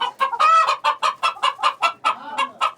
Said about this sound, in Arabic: الحق البط، بص البط